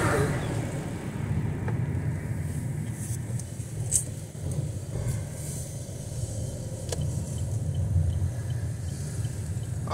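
City traffic in Itajaí, Brazil, rumbles steadily nearby, a broad low drone of passing cars with a few brief clicks and knocks, moderately loud and continuous.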